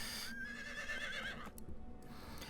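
A mighty black horse mount neighs in the Riders of Icarus video game, giving one long, shrill, wavering whinny followed by quieter game sounds, with no talking.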